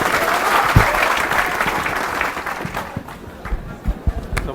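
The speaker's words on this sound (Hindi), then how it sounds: "यूसी झा सर को एक बार जोरदार तालियों के साथ स्वागत" A room gives a hearty round of applause to welcome a teacher to a maths lesson, dense and loud at first, then thinning out to a few scattered, separate claps near the end.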